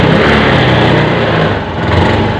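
A motorcycle engine, before an ECU reset, revs hard and loud up to its rev limiter, holding a dense, buzzing roar for a couple of seconds with a brief dip partway through.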